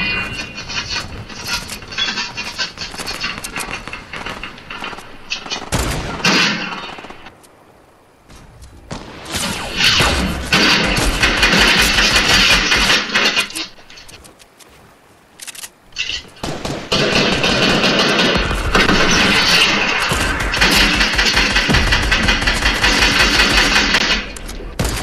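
Rockets firing and exploding in Fortnite, loud bursts of blasts and clattering debris that come in two long barrages separated by a brief lull, with no voices over them.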